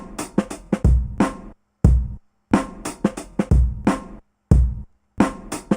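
Chopped sample played on an Ensoniq ASR-10 sampler with release raised to 44, rhythmic stabs whose tails ring out a little longer and airier before the gaps, clear and moderately loud.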